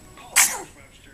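One sharp sneeze from a young child at home, a sudden loud burst that quickly trails off into quiet.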